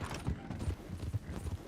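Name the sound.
horse hooves clip-clop in Red Dead Online video game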